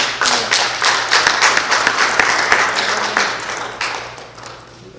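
Church congregation applauding during a Sunday service, a dense run of clapping that stays steady for several seconds before thinning out and fading toward the end.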